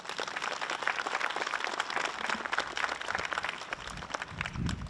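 Faint, steady audience applause for a governor at a work-zone safety press conference, heard from a distance without any talk.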